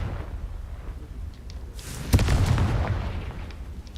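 A Confringo fire spell from Hogwarts Legacy bursts with a sudden booming explosion partway through, followed by a crackling, rumbling tail over a low background hum.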